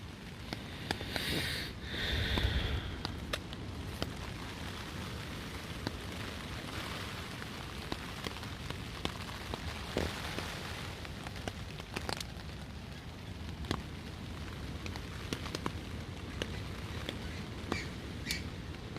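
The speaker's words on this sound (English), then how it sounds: "The rain's really starting to set in now, and the wind just keeps on getting stronger." Heavy rain drums steadily on a camping tent, a dense continuous patter with occasional sharper drops and brief rustles, no voices.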